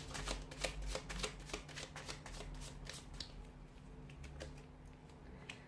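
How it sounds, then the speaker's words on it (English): Tarot cards being shuffled close up, a quick run of crisp riffling flicks and soft slaps, fading slightly toward the end. "let's give the cards a shuffle"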